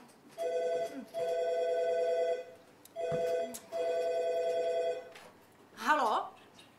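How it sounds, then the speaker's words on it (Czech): An old-fashioned telephone bell rings in two double bursts during a Czech stage comedy, loud and near, with short gaps between rings and a voice speaking briefly afterward. "Zvoní telefon!"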